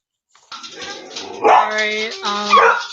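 A dog barks loudly and close up in an indoor setting, with a short series of agitated, whining barks.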